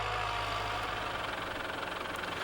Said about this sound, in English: Align the tractor and planter with your stakes, then stop.